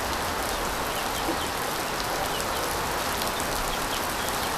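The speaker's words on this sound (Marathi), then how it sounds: "पाऊस पडायला बघा सुरुवात झालेली आहे" Rain falls steadily and evenly outside a village house in Konkan, Rajapur, on a dark afternoon, a dense continuous hiss with no pauses and no talk, a bird calling faintly now and then.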